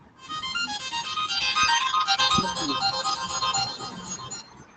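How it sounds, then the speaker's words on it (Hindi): A mobile phone ringtone plays a bright, repeating melodic pattern of electronic tones, fairly loud and continuous for several seconds, with faint background noise and a couple of soft knocks underneath. "भाई तेरा फोन लगा"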